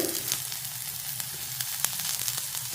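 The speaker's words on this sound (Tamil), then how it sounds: "1 நிமிஷத்துக்கு வெங்காயத்தை நல்லா கொஞ்சம் வதக்கிக்கிடுவோம்" Small onions and green chilli sauté in a pan with a continuous close crackling sizzle and scattered sharp pops and spoon ticks, no voices.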